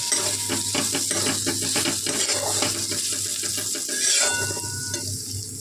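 Spiced taro flowers sauté in a pan with a loud continuous sizzle while a spatula scrapes and clinks against the metal in a busy, rapid rhythm, close by and with no voices.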